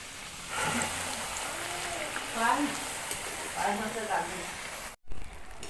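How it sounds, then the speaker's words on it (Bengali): Papdi frying in hot oil over low heat gives a steady crackling sizzle while someone talks over it, then a brief dropout near the end. "তো তেল আমার গরম হয়ে এসছে, আমি এগুলো এবার ভেজে নেব।"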